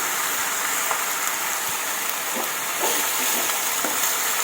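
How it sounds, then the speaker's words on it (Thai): Leftover vegetables stir-fried in an oiled pan for a Thai chap chai soup, giving a steady broad sizzle with faint scraping stirs scattered through, close and continuous with no talking. "พัดไปเรื่อยๆจนกว่าพักสิยุบค่ะ"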